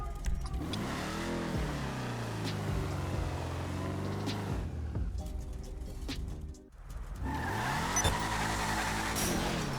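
Imponte Arbiter GT muscle car in GTA V Online driving fast, its engine revving and rising in pitch through gear changes, loud and close, with a brief dip before it roars up again.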